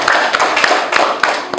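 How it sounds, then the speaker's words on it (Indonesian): Brief applause for a winning group at a classroom competition, a short burst of close hand clapping with sharp irregular claps. "tepuk tangan untuk kelompok 4"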